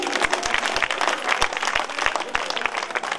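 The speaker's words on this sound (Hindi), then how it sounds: "एक बार जोर से ताली बजाइए उनके लिए।" At a devotional jagran gathering, an audience claps loudly with sharp individual hand claps over dense crowd noise, a lively, fairly close burst of applause that carries throughout.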